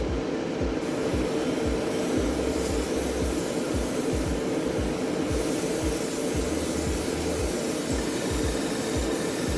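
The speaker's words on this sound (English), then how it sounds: "Just spraying it with some air again." A steady, close hiss of compressed air spraying continuously onto a painted RC car body, with a rhythmic low pulsing rumble underneath and no voices.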